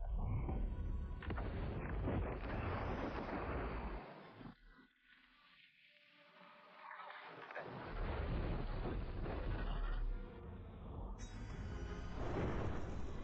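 Thunder effect in a martial arts drama, deep rumbling crashes and roiling booms that swell, fade briefly into a quieter lull, then surge back with sharp bright cracks.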